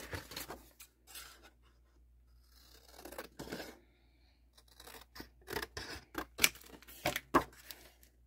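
Scissors snipping a clear stamp storage sheet of plastic with a shiny side and a papery side, a few quiet close cuts and rustles spread out with pauses, no talking.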